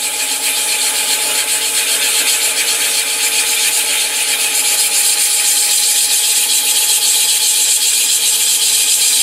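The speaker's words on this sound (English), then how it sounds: "the piece is dry enough to do some rough sanding on, so I'm going to go ahead and do that before I turn it around" Rough sanding of a dry wooden hollow form spinning on a lathe at reduced speed: a steady, continuous abrasive rubbing hiss, close and fairly loud, holding an even level for the whole stretch with no talk.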